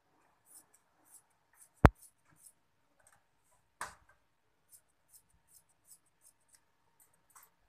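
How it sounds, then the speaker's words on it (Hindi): Scissors making small, quiet snips in rib fabric, spaced irregularly, with two louder sharp clicks standing out in an otherwise quiet room. "ये हमने रेब कपड़े की कटाई कर ली।"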